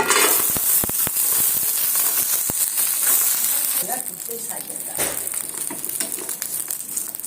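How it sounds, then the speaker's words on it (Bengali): Cashews, raisins and nuts fry in melted ghee in a pan, giving a steady oily sizzle with sharp crackles and pops that ease toward the end, while a voice speaks over it. "কাজু কিশমিশ আর বাদামগুলো ধুয়ে পরিষ্কার করে নিয়েছি এবার আমি এগুলো একটু লাচে রং ধরিয়ে ভেজে নেব"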